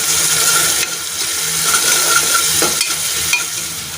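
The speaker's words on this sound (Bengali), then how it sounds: "পেঁয়াজটা নেড়ে চেড়ে লাল করে ভেজে নিই" Onions fry in hot oil with cumin seeds and a little salt in a pan, giving a steady close sizzle with scraping stirring strokes and a few sharp clinks.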